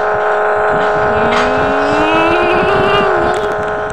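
Turbocharged car engine revving loudly and close, a steady high whine with the pitch rising and wavering over a few seconds.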